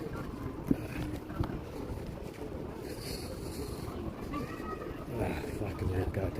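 Wind gusts buffet the microphone outdoors near water, a steady low roar with a few thumps, while a person talks over it.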